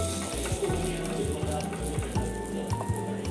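Appe batter fries in oil in an appe pan on a gas stove, giving a close, steady sizzle and crackle throughout.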